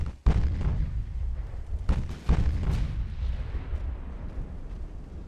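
5-inch naval guns in Ultimate Admiral: Dreadnoughts fire a handful of deep booming shots, one early and two close together later, each rolling into a low sustained rumble of battle ambience.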